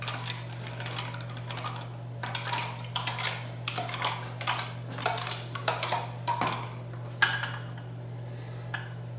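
Whisk clinking against a bowl while stirring sugar into a ginger and green onion cooking liquid, a run of quick light metallic taps and scrapes in irregular bursts over a steady low hum.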